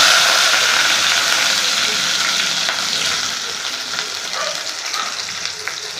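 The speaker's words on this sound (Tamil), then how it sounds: "வெங்காயம் நல்லா வதங்கிக்கிட்டு இருக்கு நல்லா வதக்கிக்கலாம்" Onions sautéing in hot oil in a pan give a steady, close, loud sizzle, with the crackle easing slightly partway through and occasional stirring scrapes.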